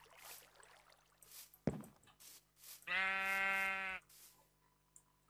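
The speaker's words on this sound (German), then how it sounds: "Ich höre Schafe." Sheep in a Minecraft world bleat once in a loud, clear, sustained call lasting about a second, with quieter game ambience and a soft thud before it.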